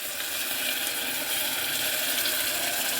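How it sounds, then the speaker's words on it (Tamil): Steady running water rushes continuously as a mixer jar is rinsed after grinding tomato rice paste, close and fairly loud with no talking. "அப்புறம் நம்ம மிக்ஸி கழுவி தண்ணி சேர்த்துக்கலாம்"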